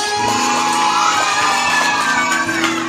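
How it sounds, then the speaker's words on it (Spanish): Children in a group clap hard and shout together, a loud, sustained burst of cheering, whooping and hand claps at close range with no single voice standing out. "Un aplauso fuerte y gritamos a la de 3."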